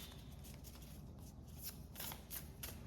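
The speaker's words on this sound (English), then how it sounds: "I'm gonna have to break it in and shuffle it a bit more." A new tarot deck, still stiff and slightly sticky, is shuffled by hand up close: soft, quiet riffling and sliding in quick irregular bursts, with no talking.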